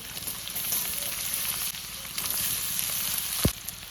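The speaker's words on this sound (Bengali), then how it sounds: "তেল দিয়ে দেবো প্রথমে দেবো গাজর তারপরে দেবো আলু" Carrots and potatoes fry in oil in a home kitchen, a moderate steady sizzle with a few light utensil taps and one sharp knock near the end, no voices.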